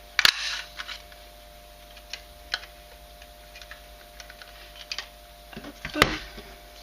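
A scalloped round paper punch cuts through a scrap of blue paper, giving a sharp mechanical snap at the start and another near the end, with faint handling clicks and rustles in between in a quiet room.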